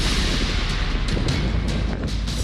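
Missile strikes on an oil depot in Ukraine, heard as a dense, continuous loud roar of burning and blasts with deep low rumble throughout and no talking.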